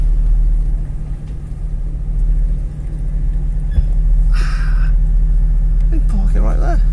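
An Audi A8 engine idles with a steady low rumble close by, while voices talk over it and a few brief clicks and handling noises come through.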